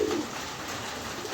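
A pair of fancy pigeons coos softly and close by, a short low murmuring call over a steady background hum.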